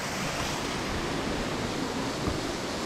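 A forest waterfall in Brocéliande roars as steady, broadband white-noise rush from close by, continuous and loud with no voices over it.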